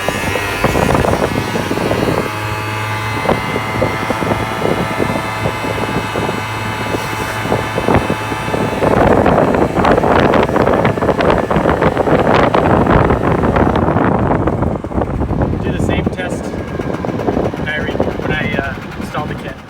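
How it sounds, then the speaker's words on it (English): A Genuine Buddy 50cc scooter accelerating, its engine drone rising and holding steady beneath heavy, continuous wind buffeting on the microphone, loud throughout. "Let me show you what it's like before we start. This is an acceleration test here."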